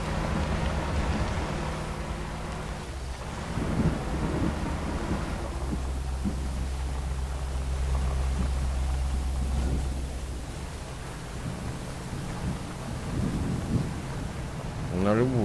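Steady rain hiss with low rolling thunder rumbles in the Spin Tires driving game, heard while a Gaz-53 truck mod drives through a wet map; continuous and fairly even throughout, with occasional low engine drone underneath.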